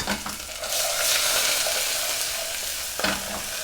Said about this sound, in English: what we do is just put it into that hot oil